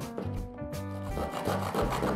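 A hand saw cuts back and forth through a small wooden stick in quick, rhythmic rasping strokes, close up and alone for about two seconds.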